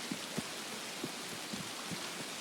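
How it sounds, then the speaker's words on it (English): Rain in the video game Escape from Tarkov: a faint, steady hiss of rainfall with a few soft scattered drop taps. "A good first raid means we're blessed with rain."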